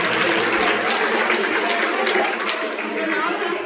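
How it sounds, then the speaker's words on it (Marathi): A school audience claps to cheer a student at an English-medium school science session, a steady, dense wash of applause mixed with crowd chatter throughout. "टाळ्या वाजवून तिचं कौतुक करूया आपण सगळ्यांनी"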